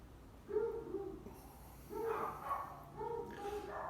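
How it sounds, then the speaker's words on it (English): A beagle barks a couple of houses away, a few muffled, distant woofs and yelps at irregular intervals, fairly faint against the quiet neighborhood. "That's the beagle from hell. 2 houses down, 1 house down. It's making a lot of racket."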